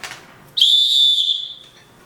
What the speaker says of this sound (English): It's a loud whistle.